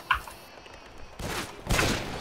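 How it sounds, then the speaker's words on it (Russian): A sharp pistol shot pops at the start, followed by two louder, rumbling bursts of gunfire in Left 4 Dead 2 that ring out and decay. "Слышь, выстрел из пистолета"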